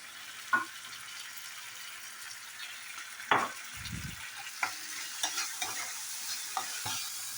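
A spoon stirs tomato masala in a pan for bread masala, giving soft scraping strokes at irregular intervals over a faint, steady sizzle, with one low thud partway through.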